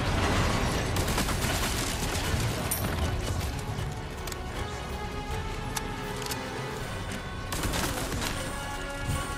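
Gunfire erupts in the video game Resident Evil 4 Remake during a castle assault, dense bursts of rapid shots and sharp cracks sustained throughout amid clattering debris, with no voices.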